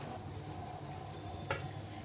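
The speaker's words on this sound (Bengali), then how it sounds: "কাবাবগুলো আমার ভাজা হয়ে গেছে, আমি এখন কাবাবগুলো উঠিয়ে নিব" Beef kebabs fry in oil in a pan with a steady, soft sizzle throughout and one brief scrape or clink near the end, no voices.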